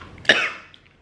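A single short cough, close and abrupt, while eating a spicy McDonald's Thai fish burger, followed by quiet.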